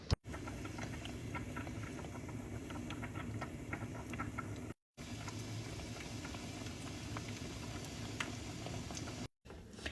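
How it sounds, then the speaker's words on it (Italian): Steady crackling and sizzling of soft fritters frying in hot oil, a dense continuous bubbling hiss with small pops, close and fairly quiet. "Andiamo a friggere?"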